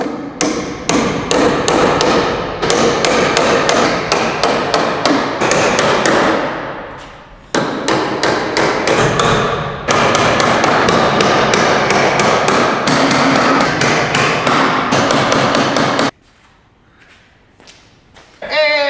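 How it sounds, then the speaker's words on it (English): Rapid, loud hammer blows ring out in long runs of sharp repeated strikes, with brief pauses between bursts before the pounding trails off near the end. "So I'm gonna use a hammer here."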